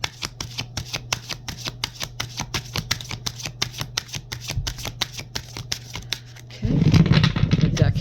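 A tarot card deck being shuffled up close, a rapid run of crisp riffling flutters for several seconds, then a rougher burst of handling noise at the end, with no talk.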